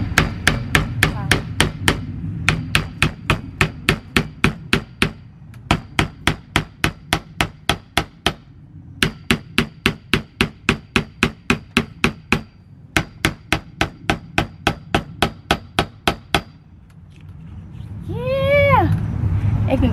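Sharp hammer strikes repeat in quick steady bursts, loud and close, hammering down a folding chair part, with brief pauses between runs; a rising squeaky noise appears near the end.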